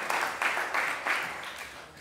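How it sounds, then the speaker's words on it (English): An audience at a bitcoin conference claps in a scattered round of applause, several clear bursts of hands that taper off over a couple of seconds, fairly distant in a hall. "Give another round of applause."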